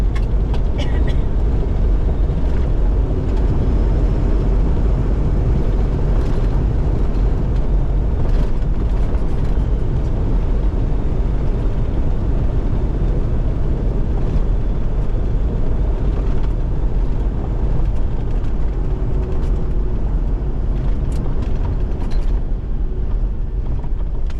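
A car engine drones steadily with rattles and creaks from the vehicle as it drives over a rough desert track in the Agafay Desert, Morocco, loud and continuous throughout.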